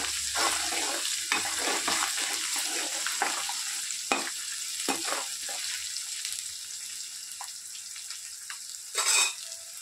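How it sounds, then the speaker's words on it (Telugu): Onions, ginger garlic paste, turmeric and curry leaves fry in a pan for a fish curry, a steady soft sizzle punctuated by scraping stirs and light clicks of the spoon against the pan. "అల్లం వెల్లుల్లి పేస్ట్, పసుపు, ఉల్లిపాయలు, కరివేపాకు అన్నీ వేసుకున్న తర్వాత కలబెడుతున్నా."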